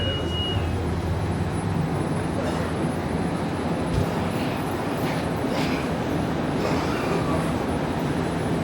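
Metro train crossing the Golden Horn Metro Bridge in Istanbul, carrying the second metro line over the water; a steady, loud rumble of rolling wheels and rail noise runs throughout, with faint wheel squeal rising briefly.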